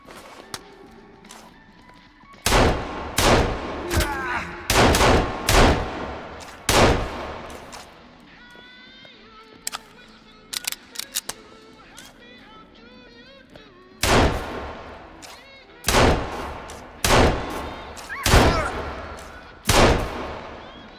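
In the survival video game Sons Of The Forest, a pistol fires repeatedly in loud, sharp single shots, spaced in bursts with short pauses, while a player speaks in between.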